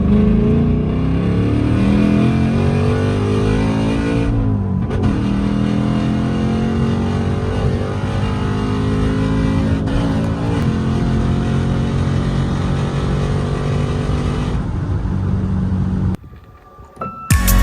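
A car engine roars close by and holds steady for about sixteen seconds, revving and shifting before cutting off abruptly near the end.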